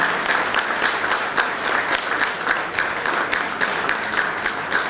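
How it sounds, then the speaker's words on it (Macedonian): Sustained, dense audience applause at a speech by Tito Petkovski, a steady even roar of many hands clapping for the doctors, with no talk over it. "Јас би сакал да ве замолам еден силен аплауз за докторите"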